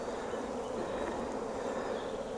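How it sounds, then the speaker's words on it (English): Dense, continuous buzzing of a bee swarm, steady and close, with no other sounds. "There's still a lot of bees up there"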